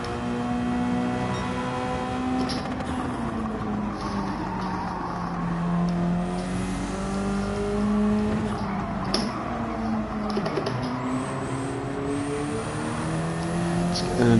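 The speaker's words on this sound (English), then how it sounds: "Let's get enough audio cue there from the turbo spools, just so I know exactly what's happening from my throttle inputs" A race car engine in a racing video game revs steadily, its pitch rising and falling with throttle inputs, while turbo spools whistle faintly on top and a voice talks over it.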